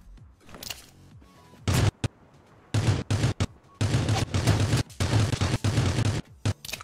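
Rapid bursts of gunfire crack through a mobile Battlegrounds match on Android, loud and close, with dense clustered volleys and short pauses between them and no talk over them.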